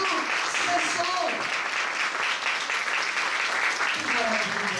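A church congregation claps together in a sustained, even round of applause, dense and fairly loud throughout, with voices mixed in beneath the clapping.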